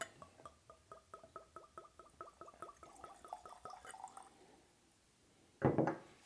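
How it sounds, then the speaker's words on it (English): Old Fitzgerald Bottled-in-Bond 9-year bourbon glugs out of a heavy decanter-style bottle in a steady rhythmic series of close pours lasting about four seconds. A short louder knock or clink follows after a brief pause. "All right, let's get a nice pour."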